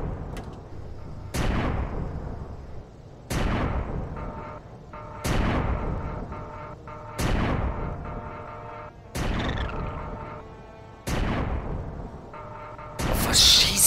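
Heavy weapons fire in the space survival game Empyrion Galactic Survival: seven loud booming shots at a slow, steady rhythm of about one every two seconds, each with a long decaying tail.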